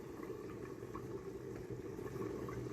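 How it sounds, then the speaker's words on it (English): A pot of vegan jambalaya simmering, with a soft, continuous low bubbling that stays close and even throughout, with no one talking. "now I'm going to turn it down to a simmer"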